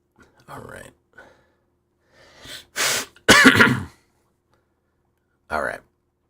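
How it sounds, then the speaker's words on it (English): Close coughing and throat clearing from a man, heard as several sharp, loud bursts spaced across a few seconds with short quiet gaps between them. "I was coughing and sneezing"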